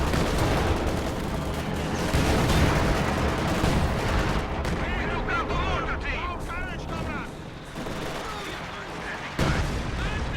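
An artillery barrage in the video game Company of Heroes 2 brings dense, loud volleys of booms and crackling gunfire that roll on without pause under a commentator's voice.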